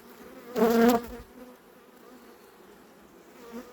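A bee buzzes loudly past, close for about half a second, then fades, leaving a faint hum of insects in the background.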